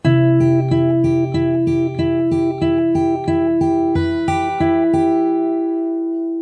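A fingerstyle acoustic guitar picks a pattern of steady repeated plucked notes across the high strings over a held bass, close and clear, ringing out alone at the end.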